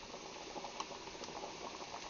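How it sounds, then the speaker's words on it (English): Potatoes boil in a pot while onions sauté nearby, giving a steady, even bubbling and sizzling wash with faint clicks and pops throughout. "my onions are sauteing and my potatoes are still boiling"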